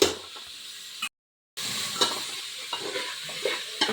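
Mutton curry with ginger and turmeric simmers and sizzles softly in a pan while a utensil stirs it in repeated scraping strokes, cut by a brief moment of silence partway through.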